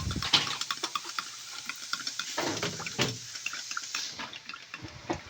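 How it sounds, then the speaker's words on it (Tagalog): Hot water poured into a cup, an uneven splashing and trickling stream with small clinks and drips, close and fairly quiet, with no talking over it. "Bago lagay ng kalahating mainit na tubig upang malagyan ko ng kalahati rin ng malamig na tubig"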